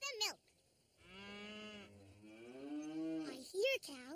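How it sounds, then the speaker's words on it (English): Several cows moo nearby, long drawn-out lowing calls overlapping, with a short bleating call at the start and another near the end. "I hear cows, but I don't see them anywhere."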